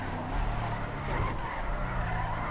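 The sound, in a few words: police car tires skidding while turning right, from video game GTA V LSPDFR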